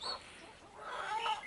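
Chickens cluck softly near a greenhouse on a cold morning, a few faint, low-level calls spread over a second and a half.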